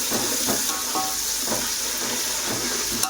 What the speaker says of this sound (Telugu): వేసుకొని అది కూడా బాగా ఫ్రై చేసుకోవాలి